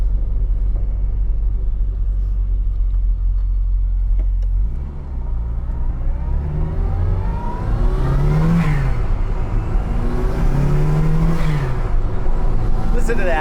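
A turbocharged classic MKI Mini Cooper pulls through the gears from low revs, the engine rumbling near and loud, then climbing in pitch in repeated rising sweeps as the turbo spools and the car accelerates, with speech partly audible over it.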